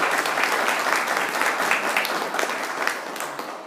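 A church congregation claps for Giovanni, a loud dense burst of applause that keeps a steady level and thins slightly near the end.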